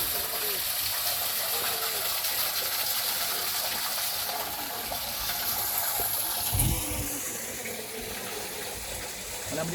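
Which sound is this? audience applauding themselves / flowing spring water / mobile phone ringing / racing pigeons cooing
flowing spring water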